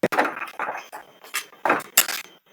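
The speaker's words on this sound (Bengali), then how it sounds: "এভাবে নাড়াচাড়া করে নিন সুজিটা" A spoon scrapes and clinks against a cooking pan while semolina is stirred over low heat, in short irregular strokes close up, with no voices.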